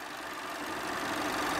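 A 2016 Vauxhall Astra GTC with a 1.6 litre turbocharged four-cylinder engine idles with a steady, faint, even hum and no change in pitch.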